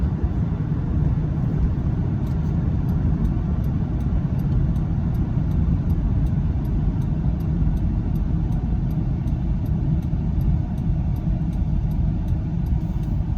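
A 2002 Buick Park Avenue cruising at about 50 mph on a major road, giving a steady low engine and road rumble with constant tire noise and faint ticking.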